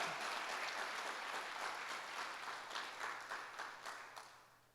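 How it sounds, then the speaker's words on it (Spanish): Church congregation applauding during a worship service, a steady wash of many hands clapping that gradually fades away over a few seconds, with no talking over it. "Denle un fuerte aplauso al Espíritu Santo de Dios."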